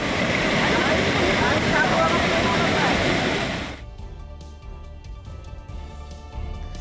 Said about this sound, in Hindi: देखिए, लगातार हो रही बारिश से मध्य प्रदेश के नर्मदापुरम में तवा डैम ओवरफ्लो हो गया है।